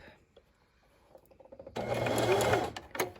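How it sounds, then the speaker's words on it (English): A sewing machine runs a zigzag stitch over lace and the raw fabric edges of a face mask. It starts after a quiet handling stretch, then whirs close and loud for more than a second. A voice talks over it. "I'm going to just zigzag this in place, catching the lace and the raw edges kind of in one fell swoop"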